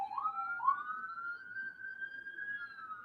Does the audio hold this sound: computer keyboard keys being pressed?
no